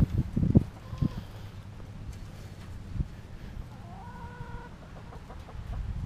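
Backyard hens cluck and squawk around a dead snake tossed to them, a cluster of loud close clucks at the start, then scattered calls and a few rising squawks over a quiet outdoor background.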